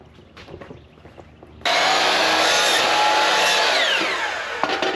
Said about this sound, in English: You want to use a saw?